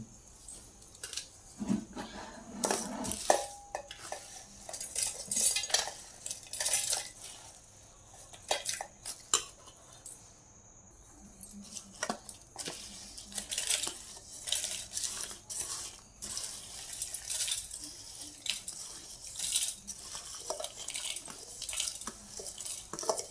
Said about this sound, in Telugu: ఇప్పుడు ఒక మిక్సీ జార్ తీసుకొని ఇవి అందులో వేసుకోవాలి.